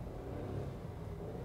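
A turbocharged three-cylinder petrol engine in a new Renault Clio V or Opel Corsa revs briefly, giving a low, steady rumbling drone close by with no talk over it.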